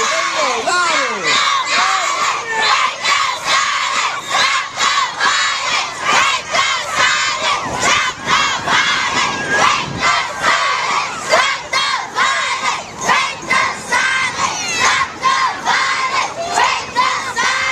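Large crowd of students and community members chanting and shouting together at a Stop the Violence march, loud and continuous with rhythmic bursts of voices close by.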